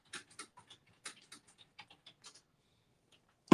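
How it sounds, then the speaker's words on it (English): Irregular bursts of light clicking keystrokes, close by, with short pauses between clusters, then quiet at the end. "Typing away."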